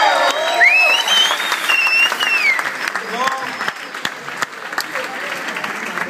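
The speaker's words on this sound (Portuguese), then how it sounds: "Aplaude aí" Congregation applauding at a church service, a burst of clapping mixed with shouts and voices that continues steadily before easing.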